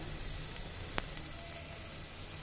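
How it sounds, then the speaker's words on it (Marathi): Bitter gourd (karela) stir-fried in a pan gives a faint, even sizzle, with one sharp spatula scrape partway through and light ticks around it, quiet and close, with no talk. "आता छान परतून घ्यायचं आहे, म्हणजे कडूपणा जरा थोडा कमी होईल कारल्याचा।"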